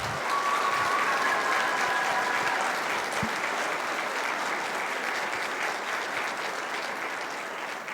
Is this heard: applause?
yes